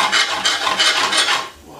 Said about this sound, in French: on va émincer nos épinards, grossièrement